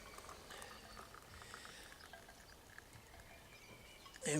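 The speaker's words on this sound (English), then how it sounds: "And once again I'll pour on some boiling water" Boiling distilled water is poured onto litmus powder, giving a faint, quiet bubbling and trickling hiss that continues softly, with a brief louder knock at the very end.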